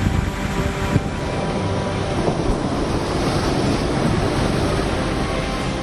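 Sea waves crash continuously on the Digha shore of the Bay of Bengal as a cyclone approaches, forming a dense, roaring wash of surf with heavy wind rumble and no voices.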